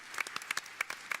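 Audience applause during a Dead by Daylight anniversary livestream about the Ghostface character, heard as a short run of scattered, faint claps spread across the moment.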